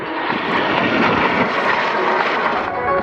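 A Eurofighter Typhoon jet roars through a flying display at the Farnborough air show, a loud, steady, broadband rush of engine noise that fills the whole moment without any talking.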